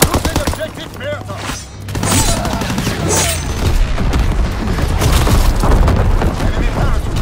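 A grenade explosion and gunfire in the Call of Duty WWII online shooter, a heavy boom followed by continuous rattling shots and battle noise, with voices calling out over the din.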